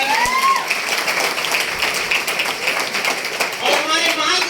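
Crowd at a company motivational seminar clapping loudly and continuously for a speaker, a dense sustained burst of applause with a faint voice audible at the start.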